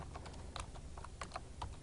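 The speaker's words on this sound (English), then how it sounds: "Alternatively, you can directly type from your keyboard." Quiet computer keyboard typing as a cell range is entered into an Excel formula, a quick run of light, close keystrokes in an irregular rhythm over faint background hiss, with no voice.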